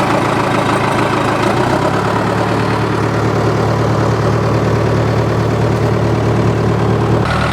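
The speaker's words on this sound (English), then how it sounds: "Let's give the backhoe a try. We'll give it some throttle first." A John Deere 450 crawler loader backhoe's engine running loud and close, a dense diesel rumble that shifts slightly in pitch early on as throttle is applied, then holds steady.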